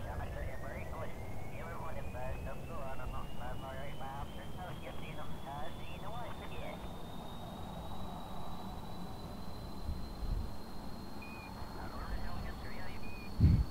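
Propeller plane engine in Kerbal Space Program droning steadily as it takes off, a rising whine climbing over a constant rumble, with someone talking throughout.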